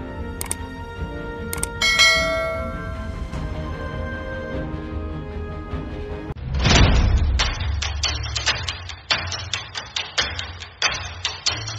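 Notification bell sound effect, a few bright ringing chimes near the start that fade away, followed by a heavy thud and a run of sharp knocking hits.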